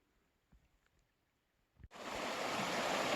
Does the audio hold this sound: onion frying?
no